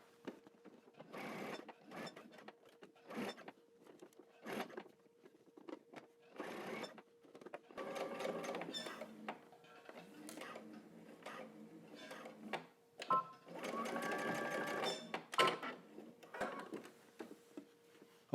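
A home sewing machine stitches across the top of a pleated pants seam in short, quiet mechanical bursts with pauses between, the whirring runs stopping and starting, faint and close.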